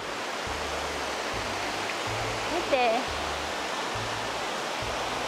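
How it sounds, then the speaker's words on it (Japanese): Steady rushing water flows throughout with a soft continuous hiss, while a voice briefly speaks over it. "水のせせらぎがいい感じですね。"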